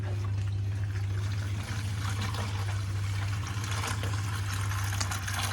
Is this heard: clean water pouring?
yes